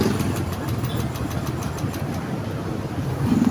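Honda Beat FI fuel-injected scooter engine cranking repeatedly without catching, a steady mechanical whirring churn that runs close and alone for a few seconds, slightly louder at the end.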